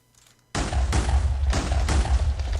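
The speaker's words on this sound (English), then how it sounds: "As you can see, TNT explosions don't destroy it." Several loud TNT explosions in the Minecraft mod Chivalry Craft, a video game, follow a brief quiet start: heavy booming blasts overlap in a rapid, rolling barrage that stays dense and close throughout.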